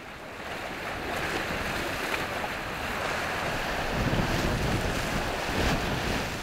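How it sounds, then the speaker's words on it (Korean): Rough sea waves crash against a small, rugged island off the southern tip of Jeju, where women harvest hijiki seaweed. A steady, loud roar of surf mixes with gusting wind noise throughout, and no one speaks. "유난히 파도가 거칠고 지형이 험한 지기도."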